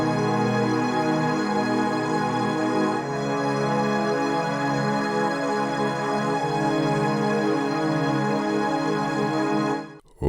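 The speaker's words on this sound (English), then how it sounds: "which is gonna be sad forming strings from Expand 2 as well" A sad, swelling strings preset from the Expand 2 synth plugin inside FL Studio plays long held chords that change partway through, steady and full before cutting off abruptly near the end; no one talks.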